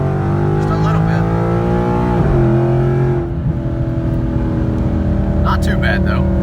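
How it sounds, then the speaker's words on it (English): A car on summer tires in cold weather accelerating hard, the engine note rising steeply in pitch, then a gear change and another climb, loud and close, with tire spin not clearly separable. "we're going to do a quick between 40 and 50 hit right here just to see if the tires spin at all"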